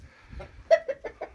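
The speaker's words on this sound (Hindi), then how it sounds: "वो ख़ास किस्म का मुर्गा है, असील जिसे कहते हैं ना।" An Aseel rooster clucks in a short run of about five loud, close calls, the first strongest, over a quiet farmyard background at a village dera.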